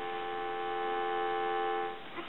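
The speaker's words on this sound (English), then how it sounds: "Give you some dial tone." A Thomas Wood wall telephone gives a steady, continuous dial tone that hums evenly at moderate level, unbroken and alone, fading slightly at the very end.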